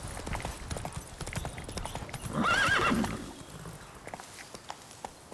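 Roach, Geralt's horse in The Witcher 3, gallops with rapid rhythmic hoofbeats, and a loud neigh breaks through midway before the clattering hooves carry on.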